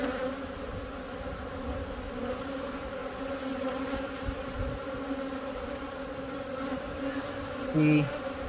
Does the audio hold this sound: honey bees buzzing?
yes